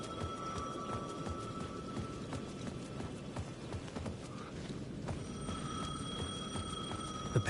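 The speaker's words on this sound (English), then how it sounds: "The payphone at the edge of the plaza was ringing again." A payphone at the edge of a plaza rings in repeated electronic bursts, moderately distant, with rhythmic clip-clop footfalls and faint background ambience beneath.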